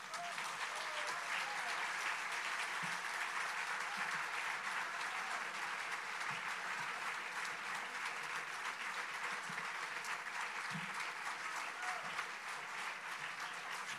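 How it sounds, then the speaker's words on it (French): Sustained audience applause after a talk on Zionism by Georges Bensoussan, steady dense clapping from a seated crowd heard at a distance, fairly faint, continuing unbroken for over ten seconds. "Je crois que on peut vous applaudir."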